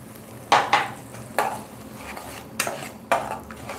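A spoon knocks and scrapes against a pan in irregular clinks while peanuts are stirred for a broccoli gravy, close and clear with no talk.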